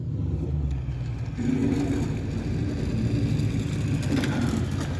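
A Toyota 4.7 V8 breathing through a 3-inch straight pipe exhaust gives off a steady, deep, low rumble at moderate volume, with a slight swell in revs partway through and no talking.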